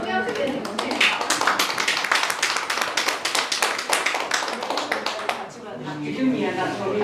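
A meeting audience applauds at a peace and unification advisory council's quarterly session, a dense, steady burst of clapping from a roomful of people that fades slightly toward the close.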